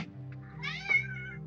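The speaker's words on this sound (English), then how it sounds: "And that was my cat" A house cat gives a single drawn-out meow, close and fairly quiet, alone against a low steady hum.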